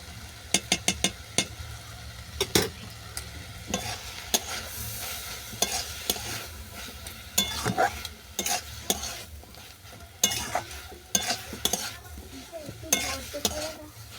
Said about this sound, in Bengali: শাক আর চিনিটা ভালো করে মিশিয়ে নিলাম